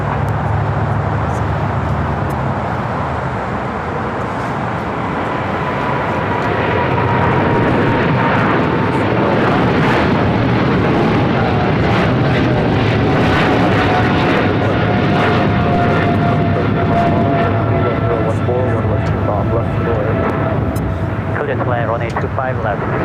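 A Scandinavian Airlines heavy jet takes off from runway 25 right at LAX, a long, loud, continuous engine roar that swells and holds, with voices talking over it.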